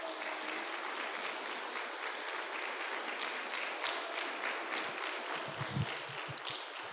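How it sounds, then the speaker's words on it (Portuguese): Church congregation giving a round of applause to the Lord, a continuous wash of many hands clapping at a steady, fairly soft level, thinning slightly near the end. "Dá uma salva de palmas ao Senhor"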